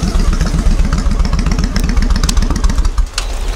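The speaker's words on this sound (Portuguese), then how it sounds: "É um barulhinho fantástico esta motinha." A small motorcycle engine runs close by with a steady, fast, clattering putter that holds even for a few seconds and then dips briefly near the end.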